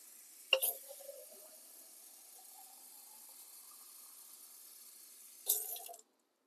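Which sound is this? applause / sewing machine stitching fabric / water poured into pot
water poured into pot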